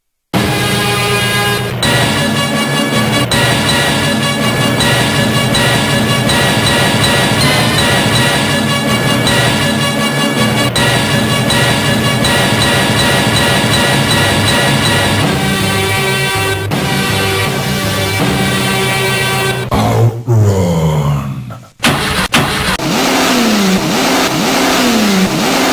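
Out Run arcade racing game intro from U.S. Gold and Sega: loud synthesized music with roaring, revving car-engine effects, running continuously before a brief dropout and a swooping electronic finish.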